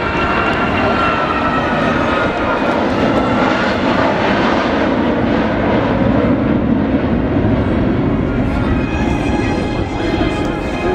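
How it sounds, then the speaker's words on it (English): A large civil airliner flies an air show display, its jet engines producing a loud, sustained roar that swells and holds for the whole stretch, close and steady, with no talking. "these aircraft are designed as civil airliners and not really for display and air show purposes"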